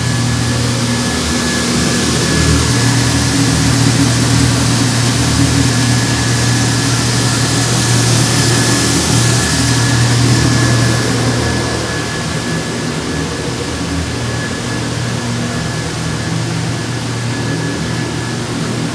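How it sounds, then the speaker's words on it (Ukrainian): A grain loader engine runs steadily almost without load at working speed, a loud continuous drone with a whining tone and an even hum that eases slightly near the end. "навантажувач працює взагалі без навантаження майже"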